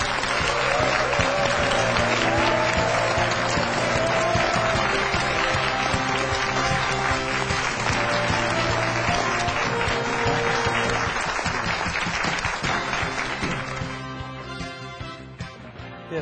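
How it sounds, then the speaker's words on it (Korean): Loud, sustained applause from a lecture audience welcoming the Bit Computer CEO on stage, thick continuous clapping that holds steady for most of its length and then thins and fades toward the end. "비트컴퓨터의 조현정 대표를 힘찬 박수로 모시도록 하겠습니다."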